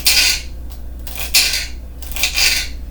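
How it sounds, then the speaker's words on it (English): A paring knife slices through a celery stalk on a cutting board, giving three crisp, fairly loud cutting crunches spaced about a second apart, close and with no talking. "Just going to cut my celery stalk."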